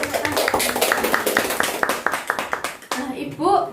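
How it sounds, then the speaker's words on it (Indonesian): A classroom of children clap together in a quick burst of hand claps for a classmate who answered correctly, the applause thinning out before a teacher's voice and kids' chatter take over at the end. "Tepuk tangan buat Mbak Kaila."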